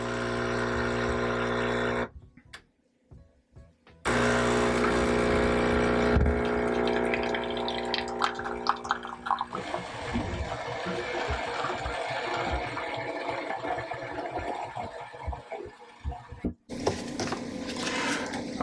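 An Instant Pod coffee and espresso maker brewing a medium roast runs with a loud steady pump hum and gurgling liquid, pausing briefly, then resuming with rougher sputtering and dripping before a final burst.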